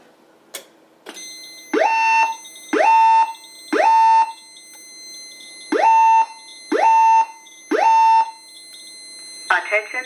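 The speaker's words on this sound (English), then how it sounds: "The fire alarm system has been activated." A 5808 fire alarm voice evacuation system under test sounds a series of six loud, evenly spaced rising whoop tones, each about a second long, with short gaps between them after a few faint clicks.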